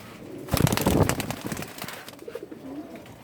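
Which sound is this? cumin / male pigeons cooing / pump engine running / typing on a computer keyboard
male pigeons cooing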